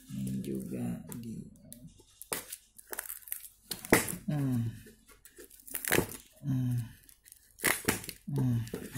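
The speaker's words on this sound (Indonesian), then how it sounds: "Sobek aja bos, sobek aja bos" An online shopping package is torn open by hand, with sharp ripping and crinkling bursts of packaging at close range, spread across the clip while people talk over it.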